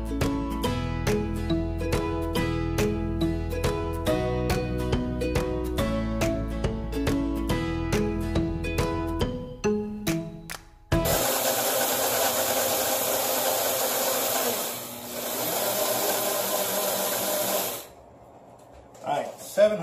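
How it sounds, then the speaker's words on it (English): Braided fishing line winds onto a Daiwa or Avet size 30 reel with a steady, loud whirring rush that runs several seconds with a brief dip. Plucked music plays before it and no voice is heard. "I'm going to continue on spooling it till I fill it up"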